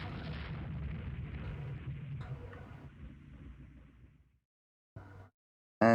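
Naval gunfire from the Rule the Waves 2 game, with a dense rumbling salvo of booms that fades out over several seconds, then a brief burst and a sharp final blast.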